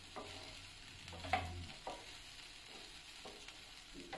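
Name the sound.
stirring soaked sabudana with vegetables in pan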